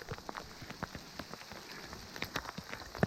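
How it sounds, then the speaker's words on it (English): Hail falling on a mountain hike to Hope Lake, quiet scattered ticks and pattering of small stones hitting the ground and surfaces nearby, irregular and faint with a few sharper hits. "Are you getting hailed on?"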